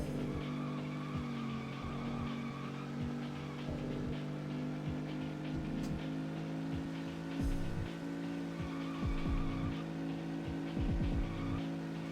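A steady, droning car engine with tire squeals and skids throughout from the N64 racing game Rush 2: Extreme Racing USA, sounding synthetic and constant rather than varying like a real drive.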